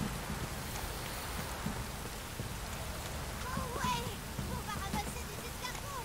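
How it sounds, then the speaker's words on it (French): Steady rain falling in The Witcher 3 game world, a constant even hiss of drops across the whole stretch, with faint tonal game sounds rising briefly near the end. "Quoi, il pleut"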